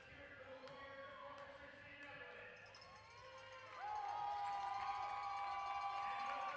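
A crowd cheers at a high school girls' varsity volleyball state championship match in a gym, a steady indoor roar with a squeak, rising and swelling louder near the end while people talk.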